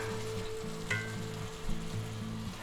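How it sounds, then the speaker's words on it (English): Peppers and onions sizzle in a pan as they cook, a steady soft crackle and hiss with a faint clink near the start, heard alone without talk. "we're going to let these cook for a little bit"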